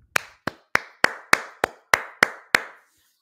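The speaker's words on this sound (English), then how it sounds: "Clap it up for us one time," Nine sharp, evenly spaced claps at a battle rap event, each a crisp, loud crack with a short decay, in a steady beat, then silence.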